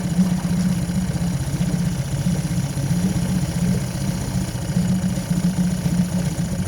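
A Mercury/Tohatsu 8hp four-stroke outboard engine runs in a test tank. It gives a loud, steady, close-up drone with an even pulsing rhythm and no talk.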